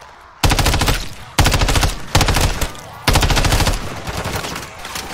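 Automatic weapons fire in Call of Duty Modern Warfare 3 Zombies, loud rapid bursts separated by short pauses, the last one running longer and gradually thinning out.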